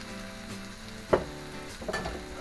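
Mushrooms fry on a hot steel plancha with a constant quiet sizzle, broken by one sharp clack of a utensil midway and a short scrape near the end, heard alone without talk.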